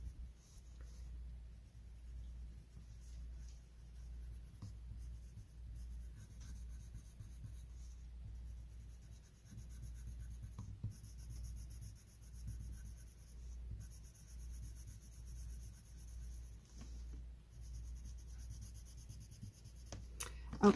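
Colored pencils rub across paper for an autumn scene, giving soft, steady scratchy strokes that are faint and close, with brief pauses between passes over a low background hum.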